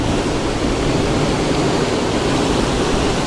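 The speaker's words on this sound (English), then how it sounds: "These waves crashing here, try and make those the focal point." Ocean waves crash against rocks beside a lighthouse on the coast, a loud, steady roar of broadband surf and spray filling the whole span with no pauses and no voices.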